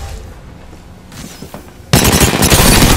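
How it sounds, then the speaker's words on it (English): Gunfire from a sniper in a shooter video game: quiet game ambience with a few faint knocks, then a sudden loud, dense burst of shots and crashing blasts that fills the final second. "There's someone sniping."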